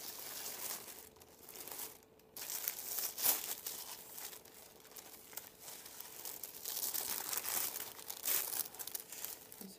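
Purple tissue paper being unwrapped from a gift, with a steady stream of close, crisp crinkling and crumpling for about ten seconds, rising and falling in bursts with no talking.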